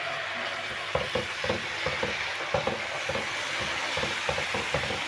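Fish with freekeh browning in a pan with a spoonful of tomato paste, a steady sizzle and fry running throughout with repeated scraping stirs and soft knocks of the spoon against the pan.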